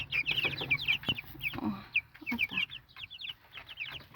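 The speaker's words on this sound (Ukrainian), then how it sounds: "Любопитні такі курочки півночі." Hens clucking and chattering in a coop on a cool morning, a flock of several birds making rapid overlapping calls close by, with no talking.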